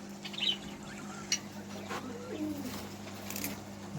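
Double king pigeons coo faintly in soft, low, scattered calls over a steady indoor hum, with occasional light chirps from other birds in the room.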